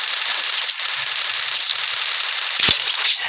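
Rapid gunfire in a first-person shooter video game, a dense continuous crackle of shots running throughout with one sharper burst near the end, no talking.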